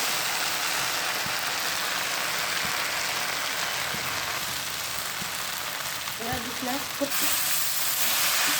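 Okra frying in a pan: a steady, even sizzling hiss throughout, moderately quiet, with a few soft stirring knocks near the end.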